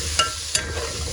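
Potatoes frying in a pan with tomato, red chili, salt, turmeric, coriander, garam masala and cumin, giving a steady soft sizzle with two brief stirring scrapes and no talking.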